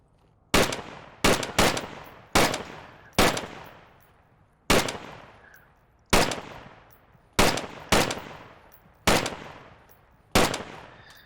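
Rifle gunfire from a video game, Marsoc rifleman loadout: about eleven loud, sharp single shots fired one at a time at uneven intervals, each with a short ringing tail, close and alone with no talk.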